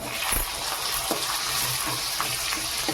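Onion and tomato sauté in a pan for ragi rava upma, giving a soft, steady sizzle with a few faint stirring knocks, fairly quiet and with no talk.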